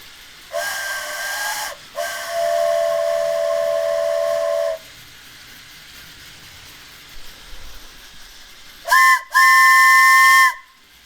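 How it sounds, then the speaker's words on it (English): A wooden carved train whistle blown in a train station, two long breathy hooting blasts at the start, then a pause and two more short, loud blasts near the end against a quiet room. "Our director actually brought one of these wooden carved train whistles"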